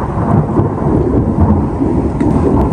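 Thunder from lightning bolts during a rainstorm, a loud sustained deep rumble rolling over steady rain, close and continuous with no talking.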